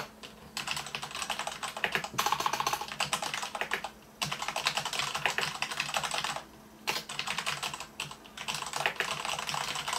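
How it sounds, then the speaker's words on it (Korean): Steady typing on a mechanical keyboard, a dense run of clicky keystrokes close up, broken by a couple of brief pauses. "기계식 키보드 치면"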